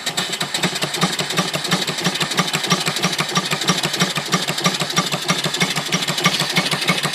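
A small off-grid steam engine with a boiler runs steadily at slow speed, its rapid even chuffing pulses close and loud, driving an alternator with a continuous mechanical whir behind the beats.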